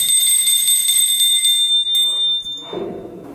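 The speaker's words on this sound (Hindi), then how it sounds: "घंटी तो बजा ही सकता हूँ।" A small metal bell at a temple shrine rings in a run of quick, bright strikes, followed by a short clatter and shuffling nearby; no one speaks.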